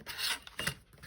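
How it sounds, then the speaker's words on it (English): A short, quiet rasping rub as a fold line is scored on a paper envelope, made of two or three brief scraping strokes close up. "I'm just giving that a little bit of a score line there"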